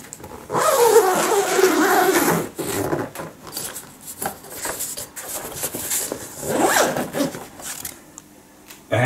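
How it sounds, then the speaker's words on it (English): A zipper on a padded synth keyboard bag for a Korg PA 50 is pulled along in several rasping strokes, close and fairly loud, with short pauses and handling rubs between pulls. "and I zip it from here"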